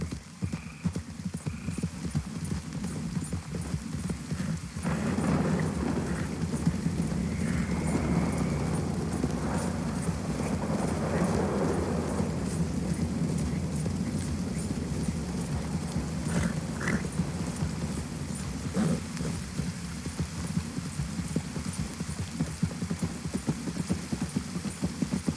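Horse hooves clip-clopping steadily in Red Dead Redemption 2, a long run of rhythmic, moderately close hoof strikes over ambient outdoor game sounds, with brief faint voices.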